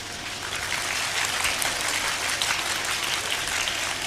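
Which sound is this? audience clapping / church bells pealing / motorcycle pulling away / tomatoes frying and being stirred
audience clapping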